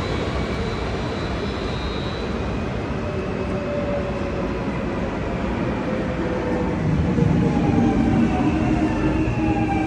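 An ICNG intercity train rumbles steadily as it pulls into a Dutch station, a continuous low rolling noise with faint squealing tones that swells slightly toward the end.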